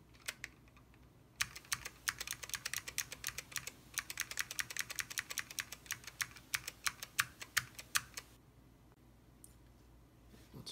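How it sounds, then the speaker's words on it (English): Rapid typing on a keyboard fitted with AEK keycaps on Alps switches, a dense run of crisp clicky keystrokes for several seconds, with quieter pauses before and after. "So first things first, we're going to be checking the AEK keycaps."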